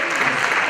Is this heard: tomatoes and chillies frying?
no